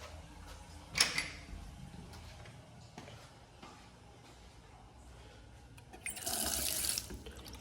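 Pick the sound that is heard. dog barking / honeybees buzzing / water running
water running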